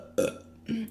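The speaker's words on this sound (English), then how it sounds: "I'm not even meaning to burp this much or trying to." Two loud burps from a woman, a short deep one followed by a second one after a brief pause, close and clear with no talking.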